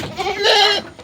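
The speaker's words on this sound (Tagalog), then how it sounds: "Ito yung mga kambing ni Sir." Goats bleating on a rainy Philippine farm, a single loud, wavering bleat rising and holding for about half a second before trailing off, close to the listener with no talk over it.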